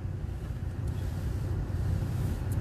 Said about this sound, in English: Will you just stop this car?